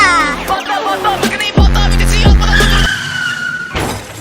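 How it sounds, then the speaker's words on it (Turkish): A red Ferrari drifting in the Roblox Brookhaven video game, with tires squealing in long sliding whines over the engine's roar, loud and close, plus a few brief bursts of game sound. "Her zaman üstü açık bir arabayla drift yapmak istemiştim"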